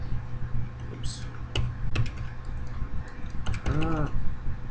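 A computer keyboard is tapped in short scattered bursts of clicky keystrokes while entering values in a CAD program, close and fairly quiet, under soft background hum, with a brief mechanical whir near the end.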